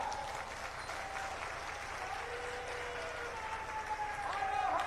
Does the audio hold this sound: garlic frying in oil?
no